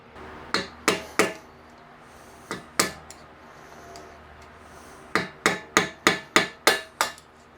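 An improvised hammer strikes a washer on a Jeep 4.0 exhaust with sharp metallic blows, a few spaced hits early on and then a quick run of about seven evenly paced strikes, loud and close.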